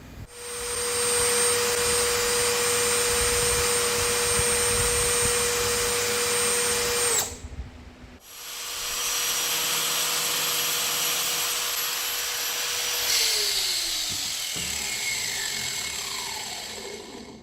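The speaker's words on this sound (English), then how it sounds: "So now we'll have to drill out those rivets" A power drill bores out rivets on the vent window of a 1964 Thunderbird, running in two loud sustained bursts with a steady whine, a brief stop around the middle, then the pitch sagging as the second run winds down.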